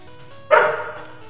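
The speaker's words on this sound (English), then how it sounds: "Oh, we got a dog in the background." A single short dog bark sounds in the background, fairly loud and clear against a quiet room.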